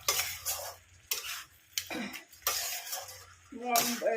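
Fish head sautéing in a pot for Bengali murighonto, stirred in bursts with clattering scrapes of a spoon against metal between quieter gaps, close and fairly loud.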